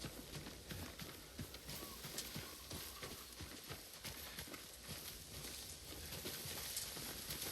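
Horse hooves clip-clopping steadily in Ghost of Tsushima as the horse approaches on call, a loud continuous patter of hoofbeats over game ambience.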